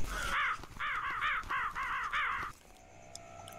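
Crows caw in a horror video game set in space, about a cop and a dog: a loud, close run of about six harsh, rasping calls in quick clusters, then an abrupt drop to quiet background.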